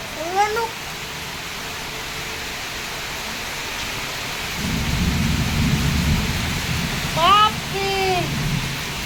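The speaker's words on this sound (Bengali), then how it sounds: "আর বাইরে তো মুষলধারে বৃষ্টি, তার সাথে ঝড়।" Heavy rain pours outside during a thunderstorm, with a deep rolling rumble of thunder building midway over the constant downpour, and a few high calls rise above it.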